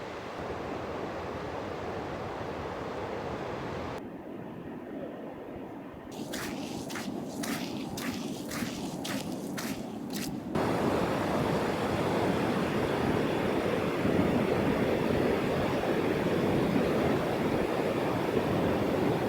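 Ocean waves wash onto a beach, a steady broad hiss of surf with wind buffeting, briefly broken by a quieter stretch of rhythmic footsteps before the surf swells louder again.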